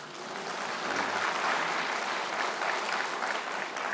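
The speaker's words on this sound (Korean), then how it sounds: "박수 한번 쳐줘요." Congregation members at a church winter camp service clap together in steady applause, an even, full wash of hands that holds at a constant level for several seconds with no talk.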